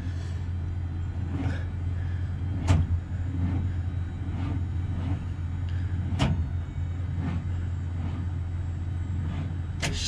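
A Honda Civic with a low battery being started after sitting, its engine turning over slowly with uneven, labored pulses over a steady low electrical hum, close and fairly loud, with no speech.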